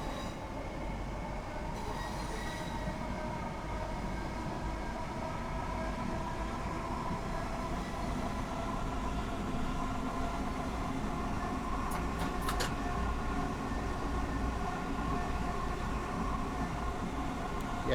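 A Train Sim World 3 train on the Southeastern High Speed line runs steadily with a constant rumble and a continuous wheel and motor hum, with brief faint squeaks partway through and no voices.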